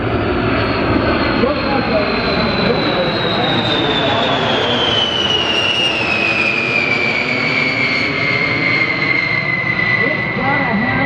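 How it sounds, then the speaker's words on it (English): A Boeing B-52 bomber at the Oshkosh airshow, its jet engines roaring loud and continuous with a high whine sliding slowly downward as it passes, while a voice talks over the noise. "here is the airplane that will be around flying on its 80th birthday. The B-52."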